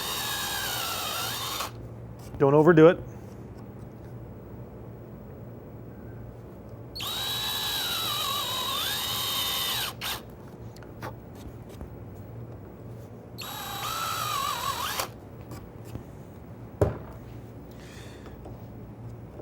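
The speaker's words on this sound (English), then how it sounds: "I want to drill down just deep enough that the screw head will disappear below the surface." A power drill with a brad point bit bores screw counterbores into wood in three separate whining bursts, each a few seconds long and close up, with a quiet voice speaking briefly between them.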